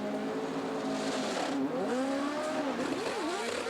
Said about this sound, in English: Here the revs come up.